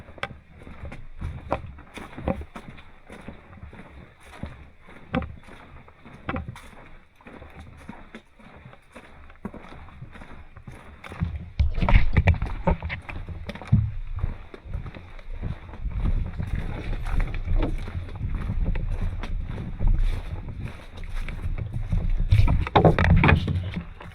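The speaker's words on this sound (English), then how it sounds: "Now we're going to paddle into this wind." A canoe is paddled into the wind on a lake in the Boundary Waters wilderness: rhythmic paddle strokes and water splashes sound close, with gusty wind buffeting the microphone that grows stronger halfway through.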